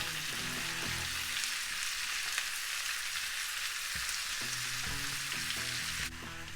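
Potatoes fry with pork cracklings in a pan, giving a steady, close hiss of sizzling broken by brief bursts of stirring.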